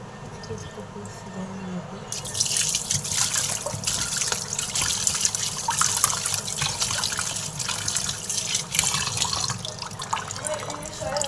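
Raw meat washed under a running kitchen tap, a steady loud gush of water starting after a brief quiet lead-in and splashing without a break, close up with faint voices under it.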